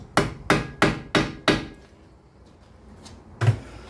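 Hammer taps ring out during brake work on a 2016 Honda Civic: five sharp, evenly spaced metallic strikes close up, a pause, then one more hit.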